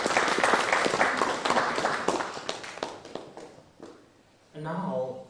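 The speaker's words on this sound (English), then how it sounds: "We have to clap for that." An audience claps together in a loud, dense burst of applause that gradually thins out and fades, then a voice begins speaking at the end.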